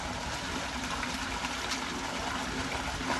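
Free-flowing water in a farm field rushes in a steady, dense wash with no pauses and no voices.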